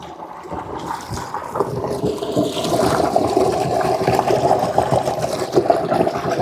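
Steady rushing stream water flows continuously through rapids, a broad churning wash that holds at a loud, close level for the whole stretch with no voices.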